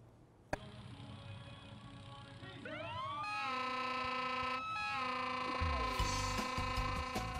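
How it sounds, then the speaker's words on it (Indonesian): A wailing siren at a hot-air balloon festival in Bali rises and sweeps through its pitch, loud and sustained, with a sharp click at the start and a low rumble building underneath. "Sirine berbunyi."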